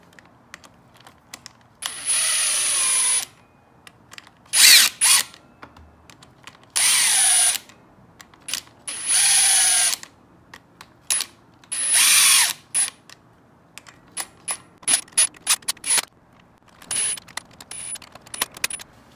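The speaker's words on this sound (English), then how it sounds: "now let's get these babies torqued down to 84 inch-pounds" Honda 400ex engine bolts being torqued down to 84 inch-pounds with a wrench: close, sharp bursts of ratcheting clicks in several separate runs, with short quiet pauses and a few light taps between them, no voices.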